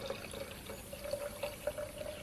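Apple cider vinegar pours into a jar for a shrub drink, making a soft, steady trickling and splashing that runs close up and quiet for about two seconds.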